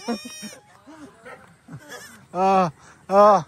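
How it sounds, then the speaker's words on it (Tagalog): Goats bleat loudly in a farmyard in Guimba, Nueva Ecija, a few scattered calls early on, then two long, strong bleats close by near the end, with people talking in between. "Ito yung mga kambing at bibe."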